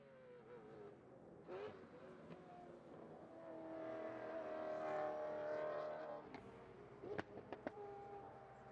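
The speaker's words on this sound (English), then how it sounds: "here's our first real look at the Maserati that's out there" A Maserati race car on a hill climb passes with a rising engine drone that swells to a peak mid-clip and then fades, heard from a distance with a few sharp clicks near the end.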